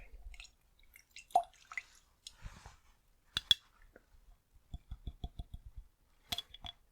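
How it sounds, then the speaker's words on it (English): A mid-size paintbrush dipped and swished in water, giving a run of soft wet drips, squishes and light clicks at close range, with quiet pauses between bursts. "wet the brush."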